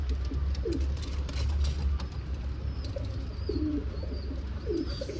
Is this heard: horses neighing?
no